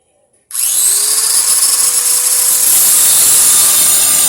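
A power tool cuts through exhaust pipe on a 2007 XV40 Toyota Camry, starting abruptly after a moment of quiet and then running as a loud, steady, high-pitched whine alone to the end.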